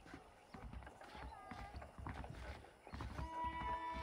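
Horse hooves clip-clop in Red Dead Redemption, a steady trotting patter under background game music and ambience, with the occasional faint voice.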